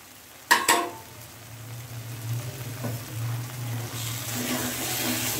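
Pieces of rui fish stir-fry in a pan, giving a steady close sizzle, opened by two sharp knocks of a utensil and followed by occasional stirring scrapes under the constant frying hiss.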